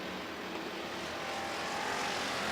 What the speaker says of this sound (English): Cars are in action now.